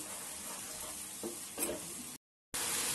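Curd is stirred steadily while it cooks into a masala gravy for paneer changezi, giving a soft continuous sizzle with scraping strokes and a brief cut to silence.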